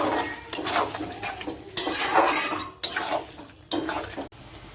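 A spoon stirs chicken curry with dry-roasted cumin, dried chilli and fennel in a metal pot, giving repeated scraping and clinking strokes of moderate loudness with brief pauses, no talking.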